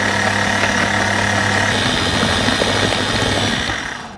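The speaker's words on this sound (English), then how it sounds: "Whisk this for 2 minutes." Vanilla sponge cake batter is beaten with what sounds like a steady, loud motorized whisk, a constant close droning hum with a rattling edge that fades slightly at the end.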